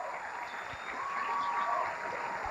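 Steady applause from a ballroom dance championship audience after a combined jitterbug, Lindy, jive and quickstep routine, a dense, even wash of clapping filling the room throughout.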